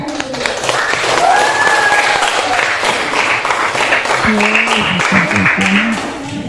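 An audience in an Indonesian teacher-training classroom claps for a student group after its presentation, steady applause filling the whole clip, with a voice speaking briefly near the end.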